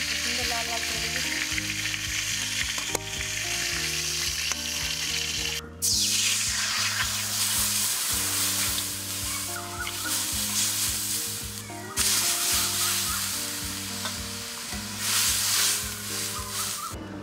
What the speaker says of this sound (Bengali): আমার লাল লাল করে ভাজা হয়ে গেছে, এবার তুলে নেবো